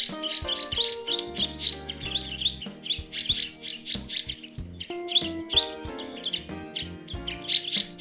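Black-faced woodswallows call on Cape York, Australia, in a dense run of bright, repeated chirps and tweets over a busy chorus of other birds, loud and close with no talking.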